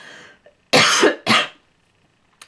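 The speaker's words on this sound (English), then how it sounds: "God, this cough." Two harsh, close coughs come in quick succession, the first longer than the second, followed by a brief faint sound and quiet.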